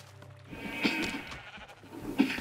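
Sheep bleat twice in Minecraft, a nasal call near the start and another toward the end, with faint game ambience between.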